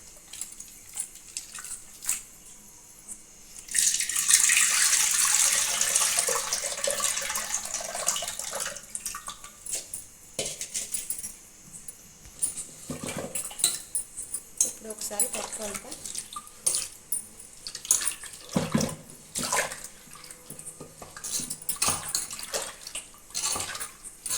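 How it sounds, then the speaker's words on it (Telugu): Tamarind water pours steadily into a pot of sambar for several seconds, a loud splashing rush that then gives way to quieter clinks, stirring and occasional talk. "ఈ చింతపండు నీళ్ళని సాంబార్లో చింతపండు నీళ్ళని ఇందులో వేసుకోవాలి"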